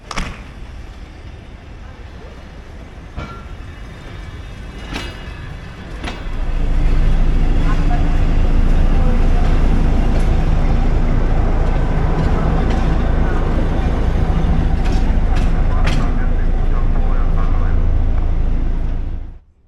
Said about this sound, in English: the overnight train that has arrived from Kazakh, being shunted away to the railway yard north of the station